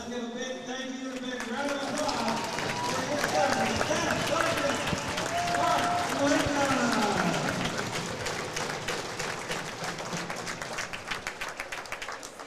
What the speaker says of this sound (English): Well, this is a massive crowd.